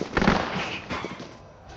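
Troops open fire in the strategy game Bonaparte A Mechanized Revolution, a short burst of crackling shots popping at close range, loudest at the start and thinning out into scattered pops.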